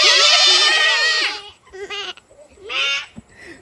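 A child imitates a goat, letting out a long wavering bleat and then a couple of shorter ones, close up with a brief adult voice between them.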